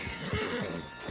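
A horse in the Red Dead Redemption 2 video game gives a loud, close whinny lasting about a second, with a faint hoof clop underneath.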